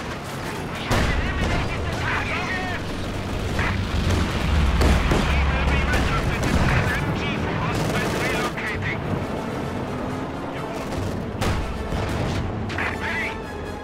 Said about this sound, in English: Stuka's inbound to strafe the target.